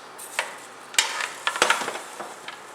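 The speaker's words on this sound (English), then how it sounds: "Give this a good stir." Cajun chicken and rice gets stirred in a single pot, a spoon scraping and knocking against the metal in several quick strokes over a soft sizzle.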